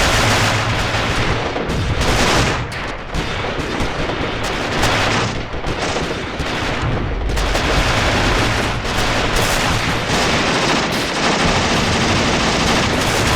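Sustained in-game battle gunfire from troops in Achtung Panzer, a dense continuous crackle of rifle and machine-gun shots with scattered louder reports, steady and loud throughout, no voices.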